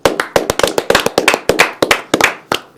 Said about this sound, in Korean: 자, 박수로서 반갑습니다.